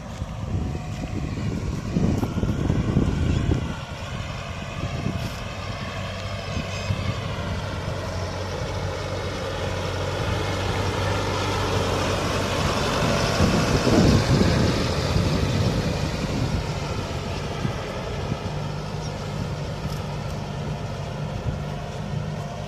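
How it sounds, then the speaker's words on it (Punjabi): A heavy Mahindra Novo 655 tractor engine drones steadily under load pulling a new cultivator through soil for over twenty seconds, its low rumble rising and straining slightly, with wind noise over the microphone. "ਟਰੈਕਟਰ ਵੀ ਪੂਰਾ ਜ਼ੋਰ ਮਾਰ ਰਿਹਾ ਜੀ ਐ ਨਹੀਂ ਵੀ ਦਬਦਾ"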